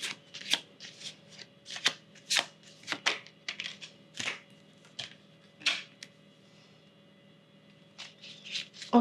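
Large oversized cards being shuffled by hand, a series of quick papery riffles and flicks in uneven bursts, close and crisp against a quiet background hum.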